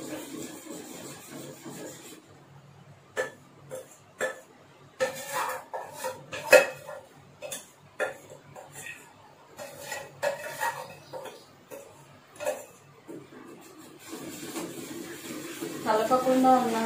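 Ghee-mixed gram flour being stirred in a pan for Mysore pak, with intermittent scraping and clinking of a utensil against the pan, irregular knocks at close range, and a voice talking over it.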